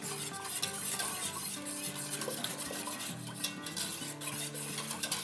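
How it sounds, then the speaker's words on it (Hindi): A spoon stirs a whisked milk mixture in a pot on a stovetop at medium heat, scraping and clinking steadily against the metal over a low background hum, with no talking. "रखते हैं मीडियम पे और इसको थोड़ा सा चला देंगे।"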